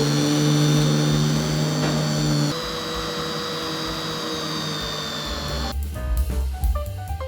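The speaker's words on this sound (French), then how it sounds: "Nous allons prendre le mixeur plongeant." A handheld immersion blender runs loud and steady while blending a cold lentil velouté, a continuous motor whine that shifts pitch partway through as the load changes, with rattling at the end.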